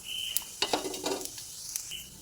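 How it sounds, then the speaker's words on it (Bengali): Whole spices (two bay leaves, cumin and nigella seeds) frying in mustard oil in a kadai, with a soft sizzle and a few sharp clinks of a spoon against the pan, fairly quiet and without speech. "গোটা মশলাটা ভাজা হয়ে গেছে।"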